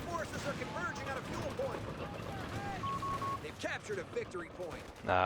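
Company of Heroes 3 battle with US forces against Italian Bersaglieri and Carro tanks: scattered machine gun bursts and distant battle noise crackle under someone talking throughout.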